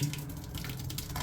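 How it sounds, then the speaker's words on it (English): Cold tap water runs steadily through cooked tapioca pearls held in a conical sieve, a continuous close hiss of flowing water with no talking. "now it's just time to run cold water through to get rid of all that very gelatinous or glutinous water"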